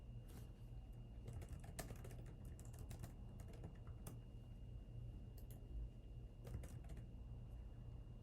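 Keys clatter on a computer keyboard in quick, irregular bursts of typing into a search field, faint and steady against a low background hum.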